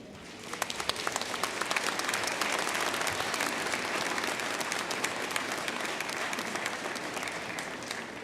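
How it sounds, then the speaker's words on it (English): At a university fall commencement, the audience applauds a Master of Science in Healthcare Administration graduate: clapping swells in within the first second, then continues as a steady, moderately distant patter of many hands with scattered crisp individual claps. "Please join me in applauding the graduate"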